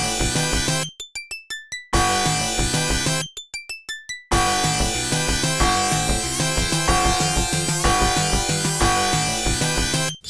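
Soundtrack music from the Sonic Eraser puzzle video game, a dense, busy electronic arrangement with rapid drum hits, clashing synth layers and two short breaks of sparse high chiming notes, loud throughout.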